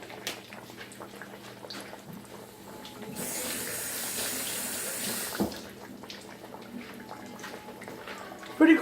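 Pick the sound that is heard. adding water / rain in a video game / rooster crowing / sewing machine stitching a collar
adding water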